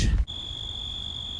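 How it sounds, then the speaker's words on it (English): Crickets in roadside bushes in open country give a steady, piercing high chirr that runs on continuously and fairly loud after a brief low rumble at the start, with no voices. "a whole bunch of crickets in a bush."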